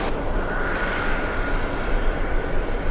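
Emirates and Lufthansa airliners move at JFK airport, giving a continuous, even jet engine roar with a faint whine, heard from some distance without voices.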